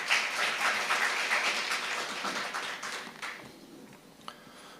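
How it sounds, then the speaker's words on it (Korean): Audience applause at the opening ceremony of an academic conference at Kookmin University, a steady wash of clapping that thins and fades toward the end, with a last isolated clap. "여러분 큰 박수로 역시 환영해 주십시오."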